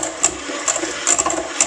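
An electric mixer creaming butter and sugar whirs up close in a steady motorized drone, with light rattling clicks as the beaters knock the bowl.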